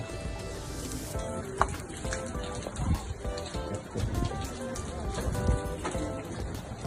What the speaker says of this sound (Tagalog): Maulan. Maulan ngayon.